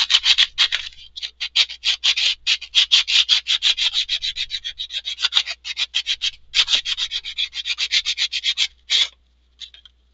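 Rapid, rhythmic rasping strokes of sanding on hard 3D-printed resin, close up and continuous, with a couple of brief pauses.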